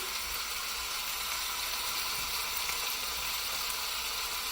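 Cabbage and bok choy hit a hot pan for chow mein, giving a constant, even sizzle and hiss throughout with no talking over it.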